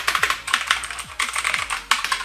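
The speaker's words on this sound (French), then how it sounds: "Concernant les touches, ça aurait tendance à faire beaucoup de bruit." Keys clatter on a One Up mechanical gaming keyboard, a rapid, loud run of sharp clacky keystrokes in quick bursts with short pauses, heard up close and alone.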